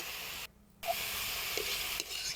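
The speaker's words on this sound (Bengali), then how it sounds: "দুটোকে একসাথে আমি এখন নেড়েচেড়ে মিশিয়ে নিব।" Potatoes and bitter gourd being stirred together in a frying pan, a close steady frying hiss that cuts out briefly and resumes, with soft scrapes of the spatula.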